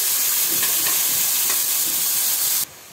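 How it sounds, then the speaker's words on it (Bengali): Shredded cabbage frying in a pan with fish head and spices, a loud, dense sizzle with faint stirring scrapes, steady until it cuts to near-silence just before the end, no voices. "মাছের মাথাটা কষানো হয়ে গেছে মশলার সাথে, দিয়ে দিলাম বাঁধাকপি"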